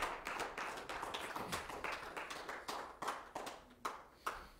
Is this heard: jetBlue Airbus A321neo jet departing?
no